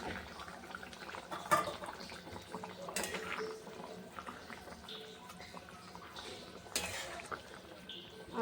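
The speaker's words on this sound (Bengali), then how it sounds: "এই দেখো ঝোলটা ফুটে গেছে," Fish curry simmers in a pot with fish pieces and potatoes, giving a faint, steady bubbling hiss close by with occasional clinks of a utensil against the pot.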